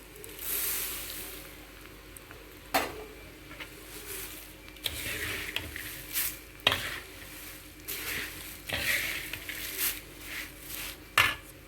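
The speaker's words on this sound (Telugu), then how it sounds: "మొత్తం మరమరాలకి అటుకులకి ఉప్పు కారం పసుపు పట్టేలాగా తిప్పండి" A spoon stirs puffed rice and flattened rice with salt, chili powder and turmeric in a pan, making soft, close scraping and rustling with sharp metallic knocks at irregular intervals, and no voices.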